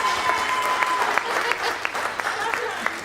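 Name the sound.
wedding guests applauding the mother of the bride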